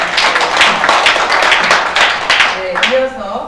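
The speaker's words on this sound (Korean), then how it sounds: "박수 제대로 한번" Applause at a Democratic Party special committee meeting on kindergarten and daycare public accountability. Steady clapping runs throughout, up close, with a voice speaking near the end.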